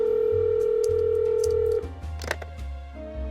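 A phone number is dialed in the Nancy Drew video game, starting with a steady dial tone, then a few quick keypad beeps and clicks before a line tone resumes, heard close and clear with no voices.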